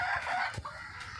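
Chickens on a small backyard poultry farm, a rooster crowing nearby with a brief cluck, loud and close over a steady background.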